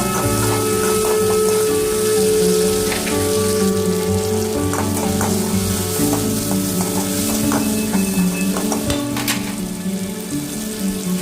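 Loud, continuous sizzle of chopped pirandai and small-cut tomato sautéing in a pan for thuvaiyal, with scattered stirring clicks and scrapes throughout, no talking.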